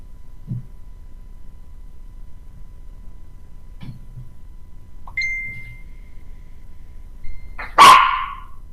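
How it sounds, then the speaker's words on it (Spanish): A single dog gives a sudden loud bark near the end, after mostly quiet background with a few faint knocks and a brief clink. "Miren, este perro me asustó."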